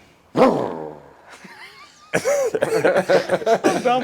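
A single strained bark, then a pause, followed by a close, choppy run of rough barks and yips.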